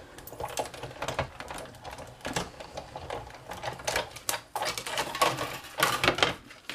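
An envelope punch board cuts a 2x2 inch paper square with a busy series of sharp clicks, snaps and taps, close and moderately loud, with no talking.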